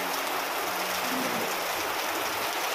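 Steady rain falls outside an old two-storey house with capiz-shell windows, a dense, even hiss of water that never lets up, heard alone.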